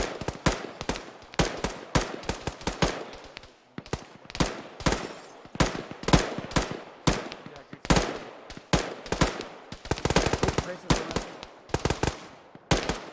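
Machine gun fire with tracers in ArmA 3: rapid, sharp bursts and single cracks repeat throughout at mixed distances, some close and loud, others further off. A voice talks faintly underneath.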